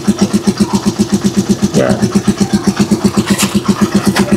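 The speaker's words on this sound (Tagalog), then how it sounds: "So napakatining ng makina natin. Yan. Yan po yung andar niya." A Rusi Chariot 175 tricycle engine idles close by, freshly tuned with new oil, giving a steady, even putter with a quick regular beat. Someone talks briefly over it.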